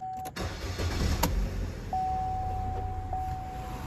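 A Chevy Cruze engine with a lean-running fault (code P0171) cranks over and catches, then settles into a steady idle, heard up close with a faint high-pitched whine in the background.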